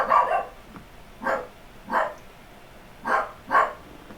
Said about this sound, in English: Oh, my dog's barking for some reason.